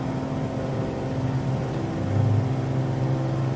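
Cirrus SR-22 light aircraft with fixed gear climbing out after takeoff: a steady, loud droning engine with a low tonal hum that swells slightly toward the end, continuous and unbroken throughout.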